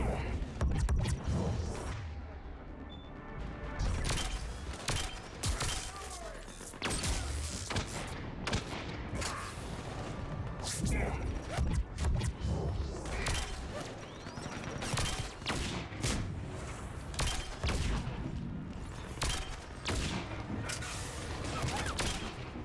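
Rapid bursts of Scorpion pistol fire in the Mass Effect 3 video game, on Insanity difficulty, crack repeatedly amid explosions, thuds and mechanical combat noise, dense and steady throughout.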